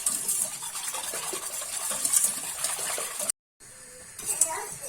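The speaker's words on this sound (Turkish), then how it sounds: "Çırpıp pürüzsüz bir kıvama getiriyorum" Milk, semolina and sugar are whisked in a pot, making a steady liquid swishing and sloshing that breaks off briefly and then resumes.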